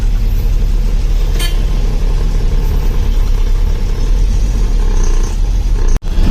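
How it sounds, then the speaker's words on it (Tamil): Heavy road traffic near Thiruvananthapuram, with a dense, loud rumble of engines and passing vehicles close by, a sharp clatter partway through and a brief dropout near the end. "மக்களே, சரியான டிராஃபிக்கு."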